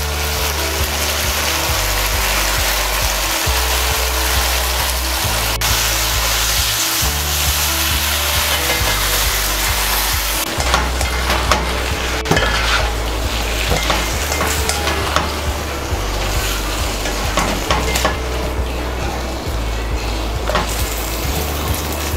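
Boiled spaghetti and vegetables stir-fried for chow mein, a continuous loud sizzle with steady scraping and tossing in the pan, no voices.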